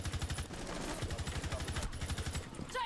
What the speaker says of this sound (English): Suppressor fire.